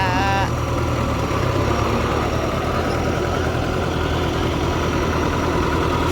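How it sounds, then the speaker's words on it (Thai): A loud tractor engine runs steadily and close, a low rumbling drone with a faint whine that keeps going without a break. "รถไถมาช่วยฮ"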